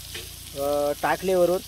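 Oil sizzling in a pan as coriander is added while frying, a steady crackling hiss throughout, partly under a voice speaking.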